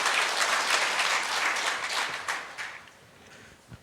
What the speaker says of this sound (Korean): 박수로 하나님 앞에 영광 올려드립니다